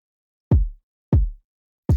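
Kick drum hits from an Afrobeats beat mix with the attack boosted, three punchy, close thuds spaced evenly with a sharper front edge and quick decaying low tails, alone.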